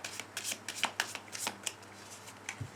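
Tarot cards are shuffled and cut in quick, crisp riffling bursts, a series of close, light snaps and slides recorded alone without talking.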